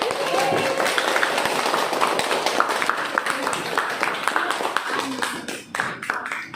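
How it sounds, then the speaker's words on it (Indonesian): A class of students gives lively applause for the discussion groups in a school lesson, with steady, mixed clapping that thins toward the end, with some voices underneath. "Kita beri tepuk tangan yang meriah."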